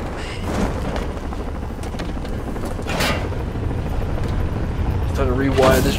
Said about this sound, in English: Time to rewire this drone.